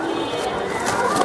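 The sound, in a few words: pigeons cooing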